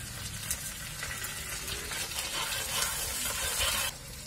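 Finely chopped onions and green chillies fry in a pan, giving a steady broadband sizzle and hiss that swells slightly midway, then drops sharply near the end, with no voices.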